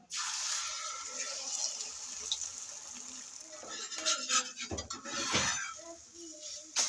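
Beaten egg seasoned with salt and chilli hits hot ghee in a pan, giving a steady, fairly quiet sizzle and frying hiss that continues, with a few spoon and pan scrapes near the end.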